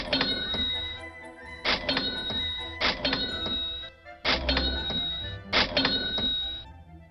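Cash register sound effect repeated five times in a steady rhythm, each one a drawer thunk followed by a bright ringing chime, clear and isolated with short gaps between.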